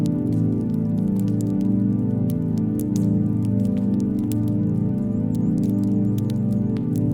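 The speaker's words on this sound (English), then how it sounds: "The first raindrops." Gentle rain begins to fall, first drops ticking and pattering in scattered, soft clicks over a steady low hum throughout, with no voices.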